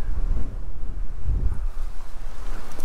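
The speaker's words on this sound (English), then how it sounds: "in case you hadn't noticed, it's really, really windy." Strong gusty wind buffets the microphone outdoors at a state park campground as a cold front moves through, a loud continuous low roar with uneven surges and no voices.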